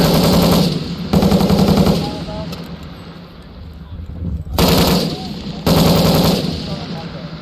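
Machine guns fire in long sustained bursts at Marine Corps infantry training, loud and close. Two rapid volleys are separated by a quieter gap, and then two more bursts follow.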